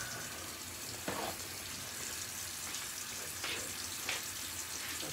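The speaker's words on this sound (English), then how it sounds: "Get that water off" Tap water runs steadily in an artist's studio during an evening painting session, a continuous hiss with a few brief splashes or clatters on top, no voices.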